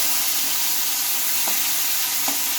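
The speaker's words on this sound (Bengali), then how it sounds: "আলুগুলো দিয়ে নিয়েছি আলুগুলোকে নেড়ে চেড়ে নেবো" Potatoes fry in hot oil with a dense, constant sizzle, and two soft stirring knocks sound from the pan.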